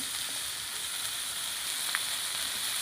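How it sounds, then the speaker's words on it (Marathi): Tomatoes frying with salt in a pan give a steady, even hiss throughout, with one faint tap near the end and no voices. "आता 2-3 मिनिटं भाजून घेऊया"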